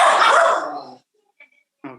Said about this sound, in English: the sound of the dog. Maybe she forgot to turn off the microphone.